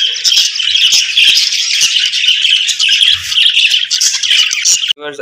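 Caged birds squawk and chirp loudly and nonstop at close range, with fluttering wing beats and cage rattles mixed into the dense chatter.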